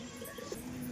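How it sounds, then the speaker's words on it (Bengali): Giribaz pigeons give a brief, soft, low coo nearby, a short burst of murmuring against a steady background hiss. "গিরিবাজ লাইনের কবুতর কিন্তু দুটোই"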